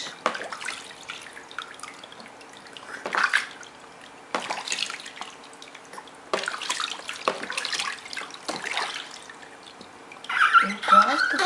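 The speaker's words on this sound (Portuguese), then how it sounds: "Ela mexendo na água, Andressa." A child splashes and stirs bathwater in bursts of sloshing and dripping, with adults talking softly between the splashes.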